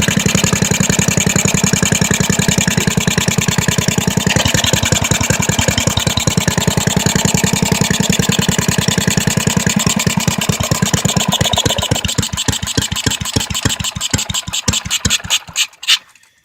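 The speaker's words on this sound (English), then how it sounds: "Here it's sucking the fuel air mix into the intake." A Briggs & Stratton WMB Mole Killer small engine with an oddball flywheel idles steadily, a loud close putter that turns uneven and sputters into separate firing pulses before dying away.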